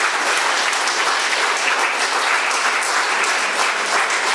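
Audience applause at a community meeting, dense even clapping from a large crowd, loud and steady throughout with no voices over it.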